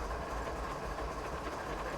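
A train in Train Simulator on the Marias Pass mountain route, rolling steadily on rails with a continuous close, loud rumble and faint wheel clatter, no voices.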